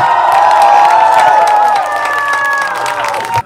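A large festival crowd at the Bērzes Strazdu Festivāls in Latvia bursts into loud cheering and applause, with whoops and shouts that ease slightly before cutting off.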